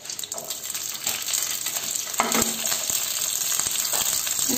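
Green garlic and green chillies sizzle in hot oil in a pan for chutney, a close, steady frying crackle with occasional stirring clicks and no talking.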